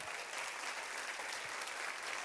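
A church congregation applauds in a steady, dense wash of clapping that holds for the whole stretch at a moderate level, with no voices over it.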